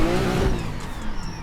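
A car engine in a drift racing video game on a Formula Drift track revs loud and close with a falling then steady whine, briefly and alone.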